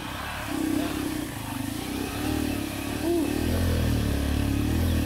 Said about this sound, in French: La moto dans la brousse.